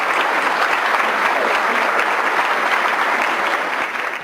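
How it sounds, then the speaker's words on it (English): A steady round of applause from a conference audience at a civic engagement summit, welcoming panel colleagues; dense clapping holds even and fairly loud, then tapers slightly at the close. "If we could give a quick round of applause to our esteemed colleagues."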